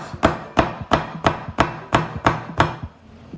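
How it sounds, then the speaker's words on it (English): A knife chops through a vegetable lengthwise on a cutting board, eight sharp, evenly spaced chops close up and fairly loud, with no talking. "I like to cut it long ways down the middle and then in half, or you can just do slices like this"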